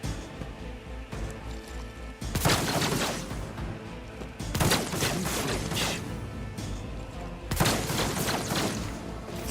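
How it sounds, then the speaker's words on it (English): Gunfire from the video game Rogue Trader arrives in three loud, crackling volleys spaced a couple of seconds apart over a low, steady background. "Stop shooting at me!"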